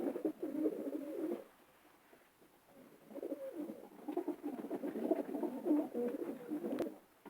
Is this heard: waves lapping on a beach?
no